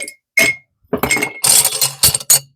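Ice cubes clinking and clattering into a whiskey glass as a drink is built, several sharp bright knocks in quick uneven bursts, close and fairly loud with no talking.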